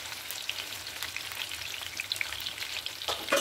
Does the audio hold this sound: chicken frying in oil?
yes